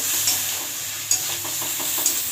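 Spice masala with chili and turmeric powder sizzles in oil for an egg curry while a spatula stirs it, a steady frying hiss broken by a few soft scrapes and taps against the pan.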